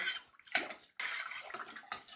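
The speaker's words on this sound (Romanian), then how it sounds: "La acest borcan de 5 litri mi-ajung 2 litri de apă" Salted brine water is poured into a 5-liter glass jar for traditional pickles. It makes a splashy gurgling pour with brief breaks and sounds fairly close.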